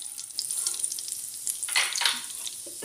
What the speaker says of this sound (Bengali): ফোড়নটা দিয়ে আমি কিছুক্ষণ কালো জিরে আর সর্ষেটাকে কিছুক্ষণ শুকনো লঙ্কার সাথে ভেজে নেব